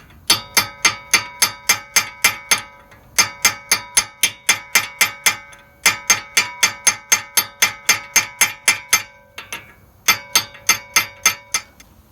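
A hammer strikes a steel punch to flatten a part during front brake and rotor work on a Honda CR-V, giving loud, ringing metallic clangs in steady quick runs with short pauses between.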